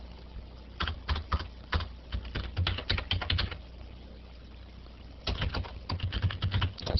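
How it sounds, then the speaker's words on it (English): Computer keyboard typing while entering an Oracle database command, bursts of rapid clicky keystrokes with a pause in the middle, close and clear, no voices. "I'm going to type"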